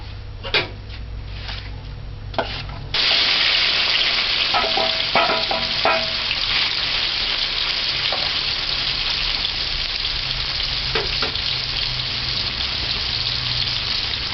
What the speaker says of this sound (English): The stove gauge should be on high and just allow it to fry.